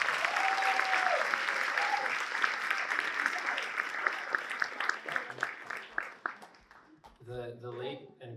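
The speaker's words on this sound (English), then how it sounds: "Let's give a round of applause." Audience applause at a fundraiser program fills the room, dense and steady for several seconds before thinning into scattered claps, with a few voices and whistles rising near the end.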